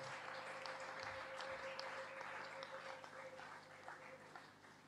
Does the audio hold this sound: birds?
no